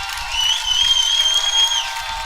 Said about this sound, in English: As the crowd underneath us of DeSoto fans is pretty loud